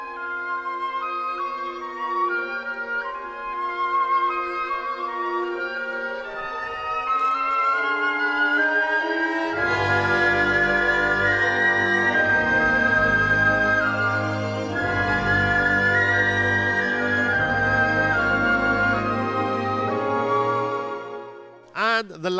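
A flute plays the full-out passage at rehearsal mark 31 of Ibert's Flute Concerto, starting alone with sustained bright lines, then joined by loud accompaniment as the melody soars and climbs before a sudden stop.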